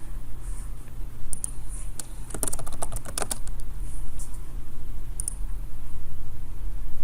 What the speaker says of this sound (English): typing Google Art Project into the search bar